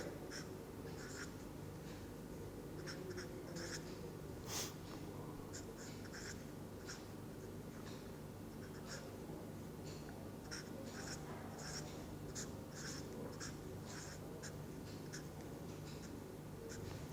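Hand-writing a chemical structure, pyrophosphate, with short scratchy pen strokes tapping out in a steady, irregular rhythm against a quiet room hum, alone with no talk.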